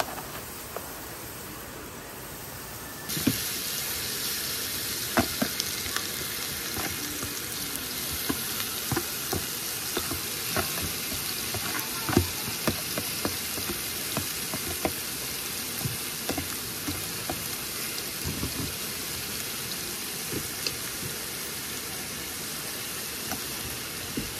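Fries deep-frying in hot oil at an outdoor cooking spot in Hinaguan Park make a dense, continuous sizzle and crackle, loud and close, with frequent sharp pops and stirring clatter and no talk.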